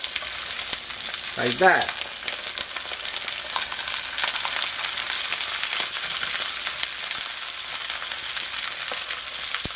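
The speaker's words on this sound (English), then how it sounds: "I'm going to put the artichoke face down in the olive oil" Artichokes browning face down in about two tablespoons of olive oil, a steady close sizzle and crackle throughout, with a brief voice near the start.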